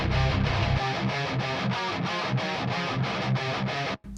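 A modern metal guitar tone chugs in tight, rhythmic distorted bursts, with bass underneath. The sound is loud, dense and mid-focused, and cuts off abruptly near the end.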